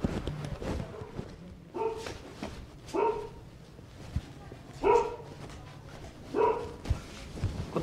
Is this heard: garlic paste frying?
no